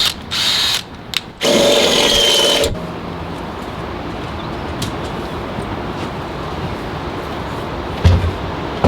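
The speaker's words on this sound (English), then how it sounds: "Thank you, Brian, for letting us borrow this drill. The battery's dead, but kind of works." A cordless drill with a dying battery whirs in short, strained bursts near the microphone, sputtering and stopping, then fading to a quiet background hum with a faint click.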